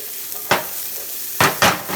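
Onions get a rough sauté in a pan for a chicken and shrimp jalfrezi, with a constant loud sizzle and three quick bursts of stirring and scraping, close by and without talk.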